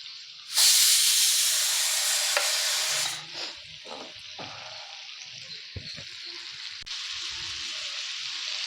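Seer fish and kilangan fish coated in masala fry in hot oil, a loud hissing sizzle bursting up as pieces go in, then settling into a steady close crackle with occasional clinks of a utensil.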